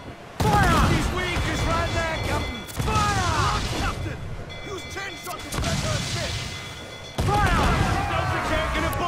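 A pirate ship's cannons fire broadsides in a video game, loud, rumbling volleys in repeated waves with overlapping booms and crashes, and a voice talks over the battle.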